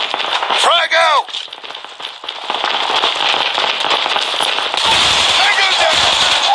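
A grenade goes off in the mobile shooter Call of Duty Mobile: a loud, crackling burst swells near the end, over a dense bed of game noise, gunfire-like crackle and a shouted voice early on.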